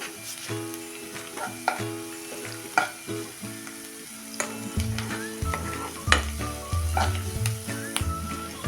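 Softened onions fry in a pan with asafoetida while preparing methi pithla, giving a constant close sizzle broken by repeated scraping and clanking stirs of the spatula.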